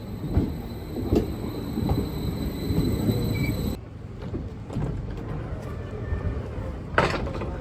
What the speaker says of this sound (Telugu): ఇక్కడ నుండి ట్రైన్ తీసుకొని లేక్ కోమో వెళ్తాను